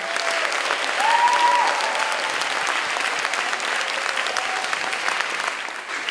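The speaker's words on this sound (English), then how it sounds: "clap louder if you want to." Steady, thick applause from a charity concert audience for the musicians, many hands clapping at an even level throughout, with a few faint voices beneath.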